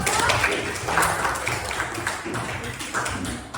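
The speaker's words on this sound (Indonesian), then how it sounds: "Tepuk tangan dulu untuk kelompok 1." Students in a classroom clap for the first discussion group as it comes forward to present, a dense patter of many hands at steady volume with some voices mixed in.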